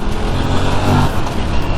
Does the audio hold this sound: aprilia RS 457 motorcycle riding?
yes